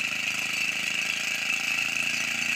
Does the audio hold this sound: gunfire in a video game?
no